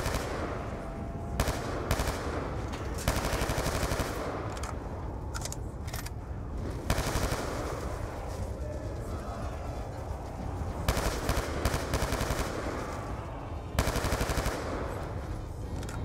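Rapid bursts of video game gunfire in a round-based zombie survival game's backyard map, dense, loud automatic fire running almost continuously with brief pauses, no talking.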